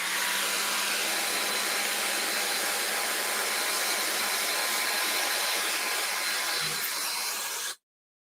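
A hair dryer blows a steady, loud broadband whoosh over fresh gouache paint, running unbroken for several seconds close by before cutting off abruptly.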